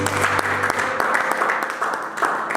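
A church congregation at an evangelistic seminary claps and applauds the Lord, a dense, sustained burst of clapping with some voices mixed in.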